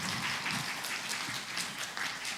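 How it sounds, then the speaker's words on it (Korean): Congregation applause during a Sunday evening church service, steady clapping from many hands sustained throughout at moderate volume with no talk. "박수."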